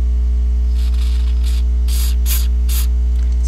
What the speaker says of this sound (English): Spray the volume knob.